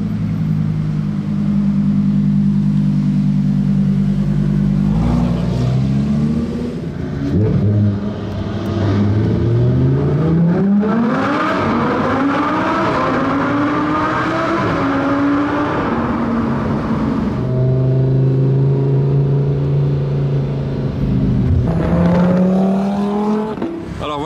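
A Lamborghini Huracan Evo fitted with an Akrapovic exhaust accelerates hard and loud, revs rising through several gear changes with sharp rises and drops in pitch, close and dominant throughout.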